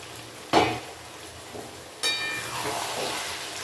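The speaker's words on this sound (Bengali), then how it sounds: "এই সময় আমি সয়াবিন আর আলু দিয়ে দেবো।" Soya chunks and potatoes drop into a pan of half-cooked spice paste over low heat, giving two sharp splashy hits followed by a soft, quiet sizzle and light stirring.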